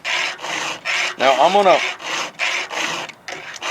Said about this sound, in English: I kind of sharpen my chainsaw teeth a little weird